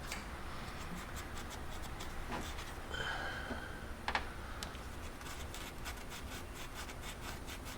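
A tool scrapes and rubs clean the EGR valve gasket surface on an Isuzu Trooper 3.5 engine, giving quiet, repeated scratchy strokes with a couple of brief sharper scrapes.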